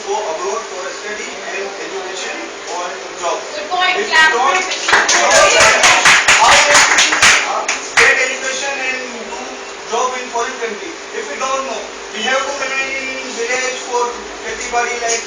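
A small audience claps in a burst of sharp, rapid hand claps in a debate at an English learning center in Karachi, loudest midway and fading, with voices talking underneath and around it.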